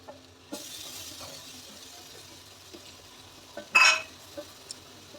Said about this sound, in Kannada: ಸೊ ಚೆನ್ನಾಗಿ ಫ್ರೈ ಮಾಡಿ, ಲೋ ಫ್ಲೇಮಲ್ಲೇ ಇಡಬೇಕು ಗ್ಯಾಸ್ನ, ಹೈ ಫ್ಲೇಮ್ ಮಾಡಬೇಡಿ.